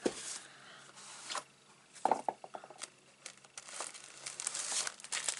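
Greeting cards in crinkly cello bags being handled near a large birthday card gift box, soft plastic crinkling and rustling in irregular bursts, close but quiet.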